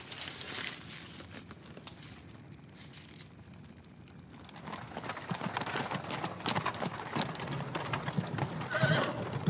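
Horses pulling a coach clip-clop steadily along a lane, hooves growing louder and busier toward the end, with a horse whinnying near the finish amid rattling and creaking.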